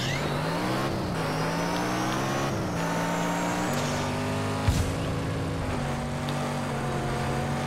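Monster truck engine in Just Cause 3, a steady loud drone with rising and falling revs as it accelerates and shifts, a brief thump near the middle, no talk over it.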